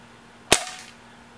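A Crosman Pumpmaster 760X air gun fires a single sharp, loud crack at a can, followed by a short fading tail in an otherwise quiet setting.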